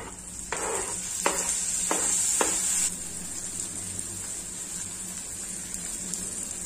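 Tomatoes are added to onions frying in a pan, giving a steady close sizzle broken by a few sharp bursts of spatter, with a thin high whine over the first half.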